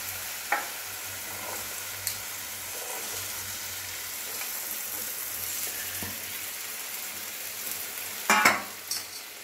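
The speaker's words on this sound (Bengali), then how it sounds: "এবার আমি এই সিদ্ধ করা মটর দিয়ে দেব" Boiled peas frying with spice masala in oil for ghugni, a steady close sizzle broken by a few clinks of a spoon against the pan and a louder scraping clatter near the end, with no voices.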